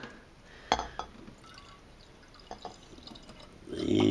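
Yeast is poured from a glass measuring cup into a one-gallon home brew, with a sharp glass clink, a few drips and then a louder liquid pour near the end.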